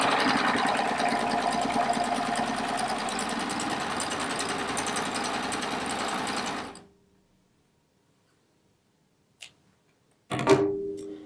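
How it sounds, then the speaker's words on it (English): A serger runs steadily for several seconds, stitching layered rag quilt fabric corner to corner, then stops abruptly, followed by silence and a couple of brief handling clicks. "I'm just going to stitch it from one corner to the next"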